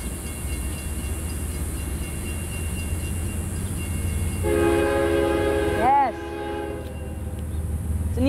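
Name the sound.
train passing with horn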